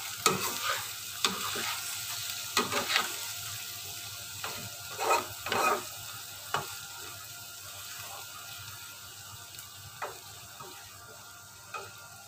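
Spices for sambal jengkol fry in a pan, a faint, soft sizzle broken by irregular scraping and clicking stirs of the utensil, close and quiet with no talking.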